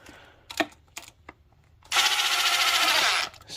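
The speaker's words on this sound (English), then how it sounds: "We're gonna bottom it out with the impact on number 1 setting." A few light clicks and taps, then an impact wrench runs one continuous buzzing burst of about a second and a half, driving a valve cover bolt on a Chevy Optra engine, close up in a quiet shop.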